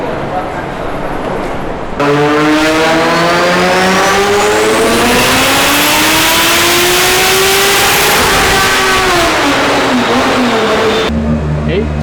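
A Mazda RX-7 FD rotary sports car revs hard on a Dynojet dyno, holding one sustained, loud pull that climbs steadily in pitch and then eases off, with a muffled lower engine drone at the start and end.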